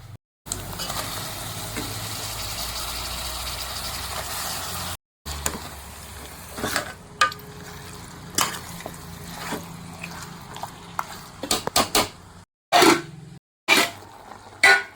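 Mutton frying in a pan with onions and ginger garlic paste, a steady sizzle broken by scraping and stirring knocks, growing patchier with sharp clatters toward the end.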